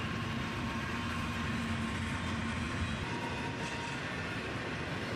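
A freight train led by an ET44AH locomotive rolls past with a string of boxcars, a continuous broad rumble with faint rail clatter held steady and fairly close throughout.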